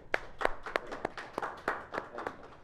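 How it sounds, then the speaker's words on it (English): An audience claps for a performer at a Miami music audition. Several sharp, uneven claps ring out close by, scattered rather than in a steady rhythm. "Everybody clap it up for him."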